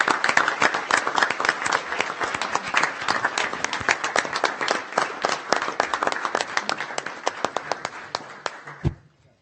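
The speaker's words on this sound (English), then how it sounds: "So please join me in applauding Anthony Hergoy's accomplishment" Crisp, dense applause fills a board of education meeting room, many hands clapping steadily for about nine seconds before tapering off abruptly, with little talk over it.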